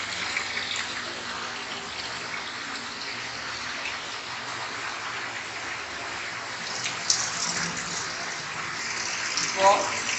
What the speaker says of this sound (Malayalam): ഈ ഓപ്പൺ ചാനലിലൂടെ വെള്ളം നോച്ചിന് മുകളിലൂടെ ഈ കളക്റ്റിംഗ് ടാങ്കിലേക്ക് വീണുകൊണ്ടിരിക്കുകയാണ്